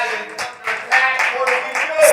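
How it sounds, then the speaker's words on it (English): An audience claps in bursts at a youth and college forum in New York, several rhythmic waves of applause close by, with talk mixed in. "Let's clap that up."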